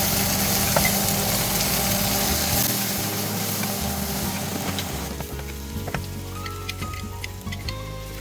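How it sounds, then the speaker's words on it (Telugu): Leaves fry in hot oil for chicken biryani, a dense continuous sizzle and crackle up close over a low steady hum, thinning slightly into scattered pops toward the end. "ఆకు కూడా వేసుకొని మంచిగా ఫ్రై చేసుకోండి."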